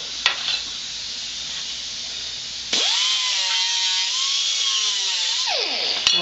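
Metal edges being deburred before welding give a steady loud abrasive rasp that shifts abruptly into a smoother whine partway through, then drops off at the end, close up with no talking.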